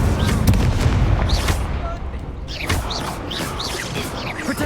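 Fire spell cast in the Hogwarts Legacy video game amid a magical duel, with loud whooshing bursts and booming crackles, dense layered combat effects, and bright zipping spell sounds over a rumbling low end.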